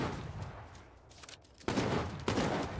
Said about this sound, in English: Alright, stop shooting at me.